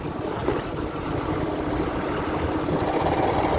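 The engine of a MAZ truck stuck in frost at minus eight, cranking and labouring to start, gives a continuous rough, grinding drone close by with no clear catch.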